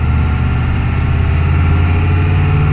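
A 7.3 IDI diesel truck fitted with a new stage one turbo, heard from inside the cab: a loud, steady low diesel drone with continuous rumble and vibration, no talk.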